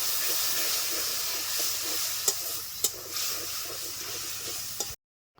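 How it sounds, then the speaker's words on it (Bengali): Spice paste of Kashmiri red chilli powder and salt stir-fried with a splash of water for an onion curry, a steady close sizzle and hiss with a few sharp clinks of the spatula against the pan, cutting off abruptly near the end. "একটু জল দিয়ে মশলাটাকে আমি ভালো করে কষিয়ে নেব।"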